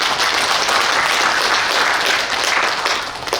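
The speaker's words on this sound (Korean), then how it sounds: "박수 한번 부탁드리겠습니다" Audience applause fills an indoor hall at a farmers' new-year training event, dense sustained clapping that stays loud and even before tapering slightly at the end.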